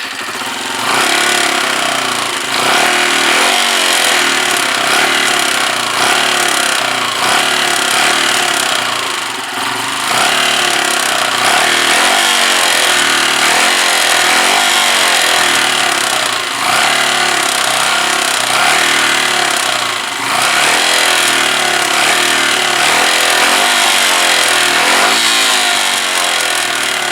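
A Kawasaki BN125 Eliminator motorcycle engine runs cold on little fuel, a loud, steady, close-up mechanical chugging and rattle with slight surges that carries on without interruption and without talk.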